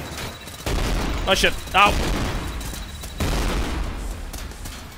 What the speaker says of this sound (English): Fine, apparently you cannot stop with the stupid ass grenades